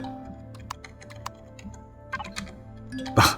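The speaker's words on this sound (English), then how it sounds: "I've pressed every key on my damn keyboard." Sparse clicks and taps of keys pressed one by one on a computer keyboard, close and fairly quiet over a low hum, ending in a louder thump.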